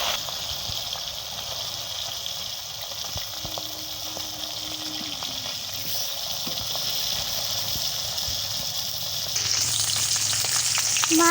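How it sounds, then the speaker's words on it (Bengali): Fish sizzle steadily in hot oil, a continuous bright frying crackle with occasional spatters, growing louder and hissier near the end. "আর এক পিঠে মাছগুলো ভালো করে উল্টে ভেজে নেব।"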